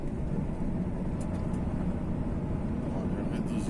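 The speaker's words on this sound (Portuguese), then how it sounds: "Acionei freio motor, tem uma descidinha aqui, giro alto, ou seja, RPM alto." A DAF XF 480 truck's engine brake roars at high RPM on a downhill stretch, a steady, loud, dense low rumble that holds without a break from start to end.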